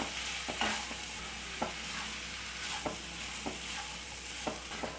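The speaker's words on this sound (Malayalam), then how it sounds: "ഇതിലേക്ക് നമ്മൾ മുറിച്ച് വെച്ച മഷ്റൂം മുഴുവനായിട്ട് ചേർത്ത് കൊടുക്കാം ആവശ്യത്തിനുള്ള ഉപ്പിട്ട് കൊടുക്കാം ഒന്ന് ഇളക്കി കൊടുക്കാം" Chopped mushrooms and salt are stirred into a tomato masala for mushroom kurma, giving a quiet, steady sizzle with intermittent spoon scrapes and taps against the pan, no voices.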